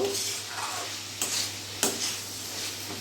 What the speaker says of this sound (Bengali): এরই মধ্যে আমি ভেজে রাখা আলুগুলো দিয়ে দেবো এবার ভালো করে মিশিয়ে নেব